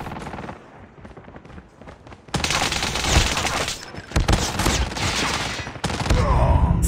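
Gunfire from a weapon in the Call of Duty video game, with rapid automatic bursts and dense overlapping shots that start quieter and become loud and sustained, broken by brief pauses.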